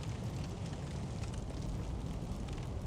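Fires crackling in Sekiro: Shadows Die Twice, a steady, low roaring rush with faint crackles running without a break, moderately quiet and continuous.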